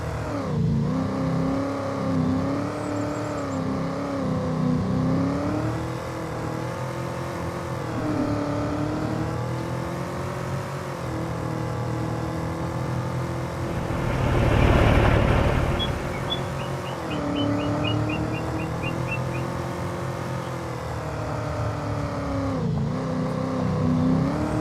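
Engine of a vehicle driving on slippery ground in a farming game, a steady, fairly loud motor drone with rising and falling revs and a brief surge of splashing or skidding noise partway through.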